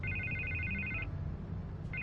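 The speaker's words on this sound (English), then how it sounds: "I can't get the phone to stop ringing." Telephone ringing in the Telltale Batman video game: a repeating electronic ring pulses steadily, cuts off briefly, then starts again near the end over a low ambient background.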